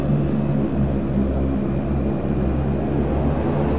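Twin turboprop engines of a DHC-6 Twin Otter in Flight Simulator X roar steadily at high power with a droning propeller buzz and a constant engine whine, loud and close, no talking.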